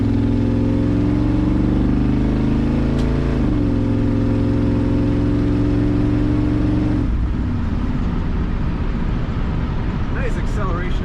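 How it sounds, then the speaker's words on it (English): A 1949 GMC 150 five-window pickup with an automatic transmission pulls away under acceleration, its engine droning loudly and steadily and shifting pitch partway through, with road and wind noise filling in later. "Acceleration in this truck."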